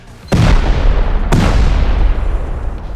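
Two heavy blasts from C4 and rockets detonating in Rust, about a second apart. Each loud boom rolls into a long rumbling decay, and no one speaks.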